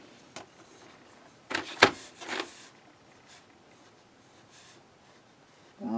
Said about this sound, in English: So let's actually try these pencils out on some of their own paper.